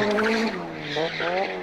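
Drifting Nissans from 1990s Japanese VHS footage, with tires squealing and engines revving in wavering pitches as a car whips sideways, loud and slightly muffled by the old tape.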